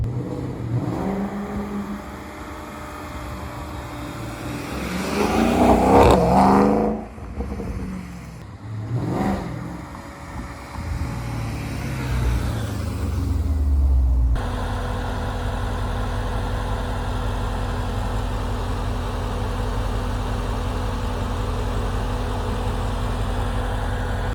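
A Porsche Panamera engine revs hard and then settles into a steady, loud idle rumble, heard up close with no voices.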